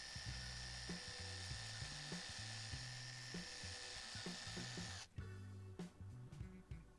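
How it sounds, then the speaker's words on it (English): An Excel 18V cordless jigsaw, model 11752, runs with its blade removed, giving a high steady whine over a choppy mechanical chatter before it cuts off and a softer rattling winds down. "Here I'm using the jigsaw to demonstrate the blow function"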